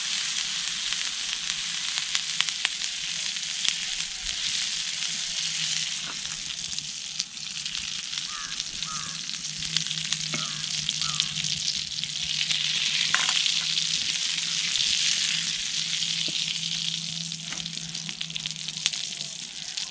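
Butter sizzling and frying steadily in a pan, a continuous close hiss with occasional stirring clicks, cooked outdoors in the Himalayan style before gucchi mushrooms are added; no talking.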